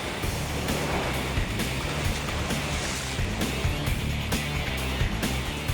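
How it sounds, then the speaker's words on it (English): Rough sea waves churn and crash around a speeding RNLI rescue boat off Torbay, a dense, loud wash of water and wind-blown spray with repeated slapping impacts throughout. "the waves get rougher"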